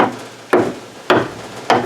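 Three heavy hammer blows land on a car's metal body about every half second, each a sharp bang with a short ringing decay, close by.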